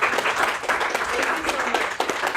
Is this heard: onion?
no